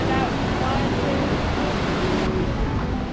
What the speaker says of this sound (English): This is three different waterfalls coming into one.